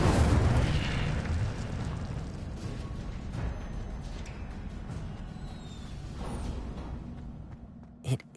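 The Incendio fire spell in Hogwarts Legacy bursts out with a loud roaring whoosh at the start, then fades into a low crackling rumble, with a short sharp pop at the very end.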